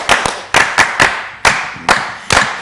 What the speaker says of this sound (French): Ton applaudissement bizarre